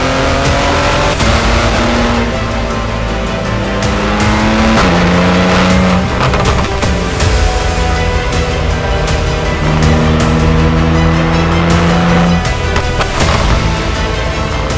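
A BMW G82 M4 with an Akrapovič exhaust driven hard on the road, loud engine revving and climbing through gears with sharp shifts, throaty roars and crackles heard close and sustained throughout.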